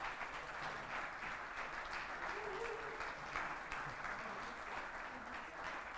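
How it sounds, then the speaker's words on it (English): An audience at a conference main event applauds as a team comes up onto the stage, giving a steady, moderately distant wash of many hands clapping that lasts throughout without letting up. "And that's the part where you applaud."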